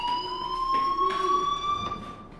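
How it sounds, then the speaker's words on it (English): A fire alarm rings steadily through a school building in the video game Life is Strange, a sustained electronic tone with layered pitches, moderately loud and continuous without talk. "do you hear that fire alarm? That means you should be outside."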